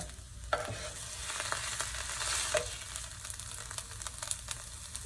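A keto breakfast scramble of protein and vegetables sizzles in a pan on the stove while a utensil stirs and scoops it, with soft scraping clicks over a quiet, steady frying hiss.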